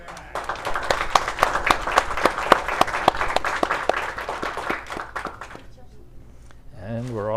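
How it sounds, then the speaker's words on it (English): A crowd at a three-cushion billiards national final applauds the two finalists, brisk clapping with distinct sharp hand claps for about five seconds, tapering off before a voice begins speaking. "a nice round of applause for our two finalists as they begin their match."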